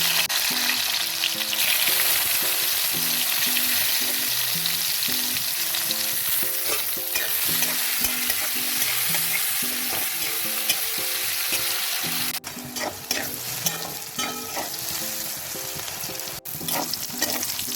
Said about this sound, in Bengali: তেল গরম হয়ে গেছে, আমি একটু হালকা চেপে জলটা বার করে বেগুনগুলো দিচ্ছি